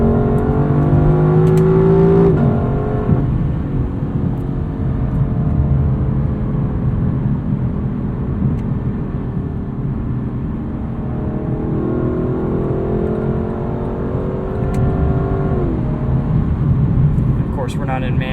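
Engine of a 2018 Lexus LC 500 taken through a corner in automatic mode, a steady mid-level drone with rising and falling harmonic sweeps as revs change, heard from inside the cabin with some talk.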